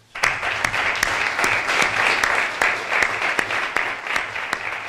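An audience in Nerva applauds the author at the launch of a book on copper hydrometallurgy in Río Tinto, a steady, full round of clapping filling the room.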